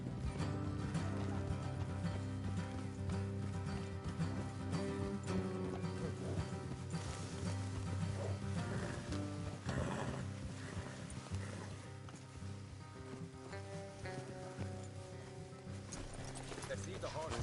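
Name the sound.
horses' hooves clip-clopping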